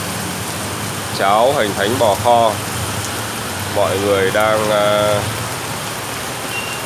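Heavy rain pours onto a Saigon street in a continuous, close hiss while someone talks over it in two bursts.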